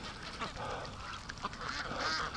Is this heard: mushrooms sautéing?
no